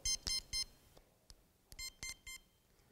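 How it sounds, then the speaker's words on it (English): Three short electronic beeps in quick succession from a Pro Educator 900 training collar remote, a pause, then another group of high-pitched beeps, clear and close against a quiet background. "hold down the on and off and press S1, and it'll do 3 beeps"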